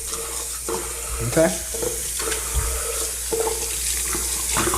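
A newly installed faucet runs water steadily into a sink, a continuous close splashing hiss with a few clunks, and a person speaks briefly over it.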